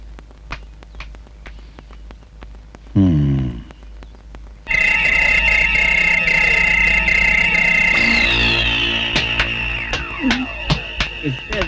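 Telephone ringing in a police office scene from a Hindi horror film, with a loud electronic ring building over a low hum, repeated sharp ticks and tones, and layered dramatic score, with no voices.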